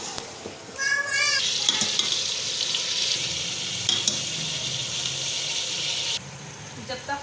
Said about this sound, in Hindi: देखिए हम भून रहे हैं इसको।